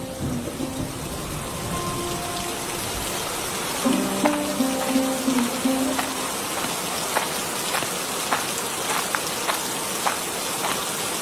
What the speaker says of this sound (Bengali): এই বৃষ্টির ভেতর জমিতে কাজ করব কিভাবে?